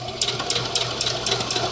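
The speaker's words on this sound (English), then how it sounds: "Now I'm sewing pretty fast because I've been doing this for a while" A sewing machine stitches fabric quickly in short, rhythmic bursts of whirring and ticking, close and fairly loud, without talk.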